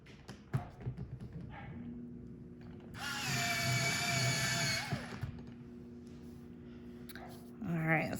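Pencil sharpened with a small powered sharpener during a drawing session: a steady whirring grind of about two seconds, close and fairly loud, with a low hum and quiet handling noises around it.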